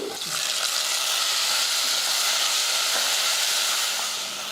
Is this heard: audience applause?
no